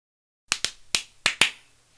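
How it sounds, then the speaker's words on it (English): Several sharp, close slaps or claps ring out in quick succession after a moment of silence, each crisp hit decaying quickly in a quiet room. "Snake clapped, so I recorded right now"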